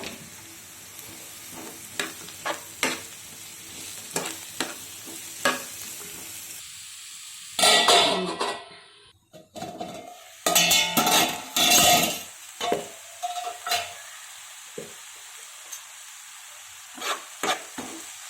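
Cucumber pieces with turmeric and cloves sizzle in hot oil in a pan while being stirred, with bursts of loud frying and scraping strokes between quieter stretches of gentle sizzling.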